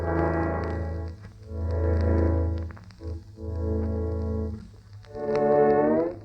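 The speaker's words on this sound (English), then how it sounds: "That sound you hear is not the wind whistling through the keyhole, but some tones whistling through a vibrolin" Eerie whistling tones from a vibrolin sound in several sustained phrases with short gaps between them; the last tone bends and glides upward.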